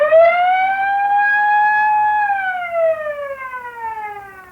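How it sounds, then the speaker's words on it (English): An automatic truck alarm siren sounds alone and loud, holding a steady high electronic wail for about two seconds before its pitch slides steadily downward as it fades slightly. "Mr. Denton, your auto alarms are certainly loud enough."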